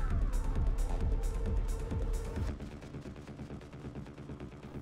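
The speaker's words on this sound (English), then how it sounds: "The energy gun's pretty sick." Energy gun firing in a video game: a quick run of sharp repeated shots, loud at first, then thinning out into a rumbling game background.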